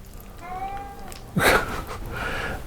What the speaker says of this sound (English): The cat wants some too.